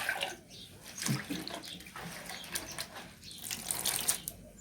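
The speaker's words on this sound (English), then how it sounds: "I'll add some water." Water poured into a cooking pot while preparing a traditional South Sudanese smoked dry fish dish, a moderately loud, splashing trickle that runs for several seconds with no one speaking.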